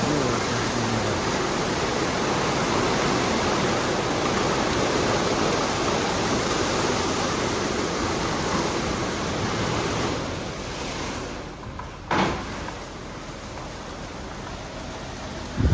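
WashTec automatic car wash at a Wagga Wagga car wash blasting high-pressure water, a loud, steady rushing spray that holds throughout, easing briefly near the end with a short thump.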